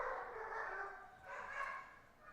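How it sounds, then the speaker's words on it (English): Puppies bark and yip downstairs, muffled and distant, in a couple of drawn-out rising bursts through a floor, with no clear talk. "you can hear the puppies?"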